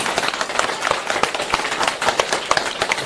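An audience at a 2011 Buddhist Dharma assembly in Paris breaks into sustained applause, a dense, steady patter of many hands clapping close by without pause for the whole stretch.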